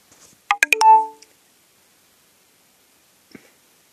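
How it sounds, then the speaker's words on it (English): A phone notification plays as a short, clear run of rising electronic tones lasting under a second, followed by a faint tap a few seconds later in an otherwise quiet room. "I'm going to keep getting notifications on my phone."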